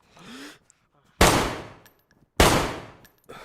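Two loud single M4 rifle shots in the video game DayZ, each a sharp crack with a decaying tail about a second apart, close and dry, with a short faint voice before them.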